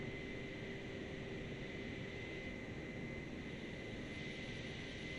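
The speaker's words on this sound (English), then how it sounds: "Oh yeah, helicopter." A distant helicopter near an airport runway gives a steady, faint, broadband whooshing drone that holds evenly throughout, with no voices.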